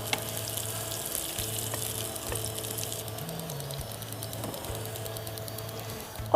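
Chopped onion frying in a pan for a shrimp and Malabar spinach dish gives a steady, fairly quiet sizzle over a low hum, with no talking.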